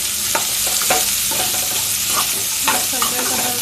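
Brown rice vegetable pulao mixture of sprouted moth beans, mung beans and finely chopped carrot frying in a pan, with steady sizzle and repeated scraping strokes of a spoon stirring it, close and alone without talk.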